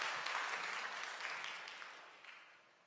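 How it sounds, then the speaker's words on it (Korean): A church congregation applauds during a Sunday service to welcome a visitor, dense steady clapping from many hands that gradually fades toward the end. "여러분도 환영의 박수 부탁드립니다."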